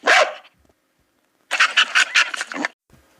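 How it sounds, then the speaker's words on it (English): A dog barks close and loud: one short bark, a pause, then a rapid burst of several barks in quick succession. "Dog."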